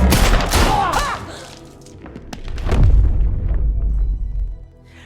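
Gunfire erupts in an action-film standoff as two characters fire at each other. There are loud booming shots and bursts, a lull, then a heavy rumbling blast that fades out.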